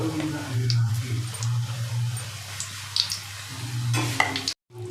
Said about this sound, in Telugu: మధ్యలో మార్చుకుంటూ డీప్ ఫ్రై చేసుకోండి